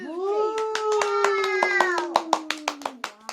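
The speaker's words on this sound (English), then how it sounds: "Now you are ready to clap your hands." Several sharp hand claps ring out close by in the second half, roughly six in an even beat, after a drawn-out voice-like tone that holds through the first part.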